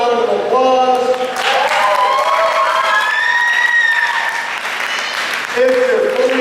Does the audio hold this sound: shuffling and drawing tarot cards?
no